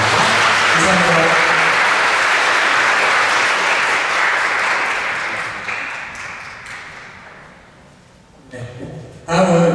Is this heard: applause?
yes